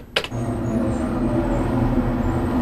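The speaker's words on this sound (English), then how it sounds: "You can hear a large vehicle going by." A large vehicle rolls past outside a studio, a steady low rumble and engine drone holding throughout, heard through the room after a brief sharp knock at the start.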